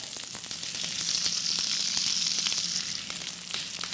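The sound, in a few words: fennel searing in butter in a hot pan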